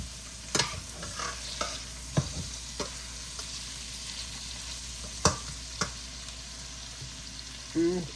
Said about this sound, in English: So you have to continue to stir them so they don't burn or anything.